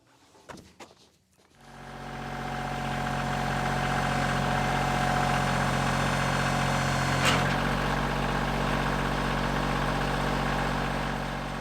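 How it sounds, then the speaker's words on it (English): A tractor engine starts up after a few short clicks and settles into a steady, loud idle, a low rumbling drone that continues unbroken to the end. "But time to get my tractor."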